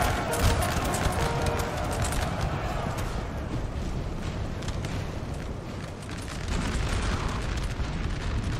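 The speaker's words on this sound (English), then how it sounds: "I'm surprised the artillery is firing through their own men." Artillery firing in a Napoleon: Total War battle, a continuous dense rumble of cannon booms and battle noise, loud and unbroken, rolling on throughout.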